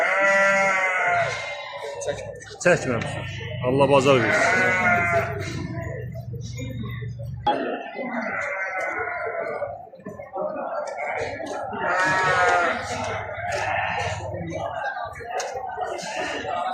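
Sheep and lambs bleat loudly and repeatedly at a goat and sheep livestock market in Maştağa, close wavering cries coming in overlapping bursts while people talk nearby.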